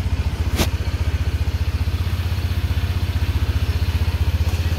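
A brand-new Honda PCX scooter engine idles nearby with a steady, rapid low thumping pulse and a light mechanical clatter, running alone without talk.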